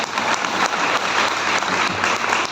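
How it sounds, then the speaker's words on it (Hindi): A crowd claps steadily and loudly throughout a meeting in Siwan, with no pauses in the applause. "ताली बजाना एक बार, थोड़ा ताली बजा"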